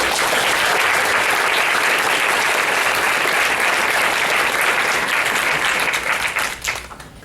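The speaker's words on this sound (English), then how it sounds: "can I have a round of applause for all the staff and volunteers again?" A conference audience applauds staff and volunteers at a free UX camp event, a loud, dense, steady wash of clapping that fades out near the end.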